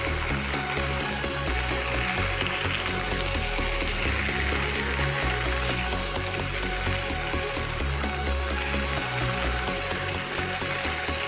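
Green peas stirred in a kadai for a koraishutir kochuri filling, giving a continuous, close, rattling scrape of spatula and peas against the pan with no talking.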